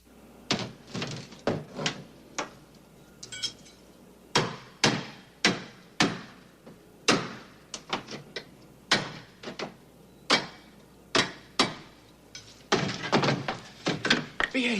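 Metal plating being torn off an elevator, a long series of heavy, resonant bangs and thunks at irregular intervals, close and loud, growing denser toward the end.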